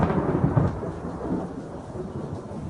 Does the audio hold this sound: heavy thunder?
yes